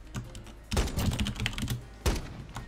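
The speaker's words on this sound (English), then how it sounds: "Let me type a chat." Rapid clattering keystrokes on a computer keyboard during a sniper-only first-person shooter match, tapped out in quick uneven bursts with short pauses, close and fairly loud with no talking.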